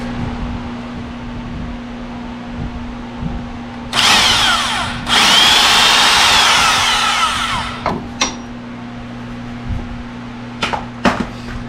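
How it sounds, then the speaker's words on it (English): An impact wrench removes the CVT pulley on a Yard Sport YS200, loud and close: a burst of hammering buzz, a brief pause, then a longer run, followed by a few sharp clanks. "So an impact, got that off."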